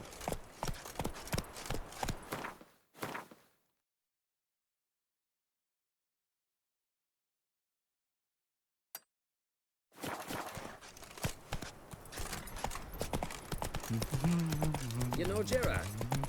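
Roach, Geralt's horse in Witcher 3, trots and gallops with steady clip-clop hooves, near and loud, over game music and talk. A long silent stretch breaks the sequence.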